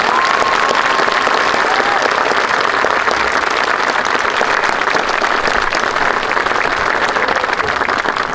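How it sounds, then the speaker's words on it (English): A high school graduation audience at a 2022 ceremony in Rochelle breaks into a big round of applause, loud sustained clapping from a large crowd that stays even throughout, with a faint whistle near the start. "join me in a big round of applause"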